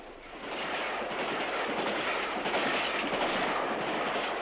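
A train runs through Highbridge station on the Great Western main line from Bristol to Exeter, a loud, close, steady rumbling roar with a wheel clatter that builds and then holds.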